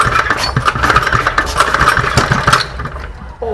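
Martinha's new motor runs loudly close by, its revving surging and pulsing in uneven bursts before dropping off sharply near the end.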